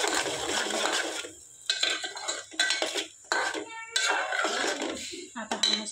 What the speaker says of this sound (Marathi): चला तर इथं तेल गरम झालं, तर हे बघा मसाला टाकला मी वाटण केलेला.